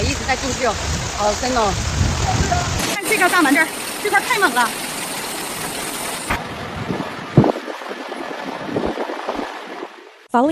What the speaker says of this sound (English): heavy rain hit Zhengzhou City, Hunan Province last night